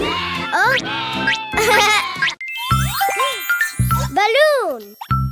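Cartoon sheep bleating in a children's animal-and-colours song: several bright, wavering bleats alternate with chimes and tinkling music, fairly close and loud.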